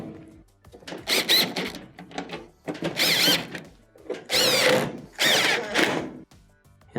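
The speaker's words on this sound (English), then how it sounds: "Reinstall the 1/4-inch screws around the perimeter." A power screwdriver drives quarter-inch screws back into the perimeter of a GE dryer console, several short whirring bursts close up, separated by brief pauses.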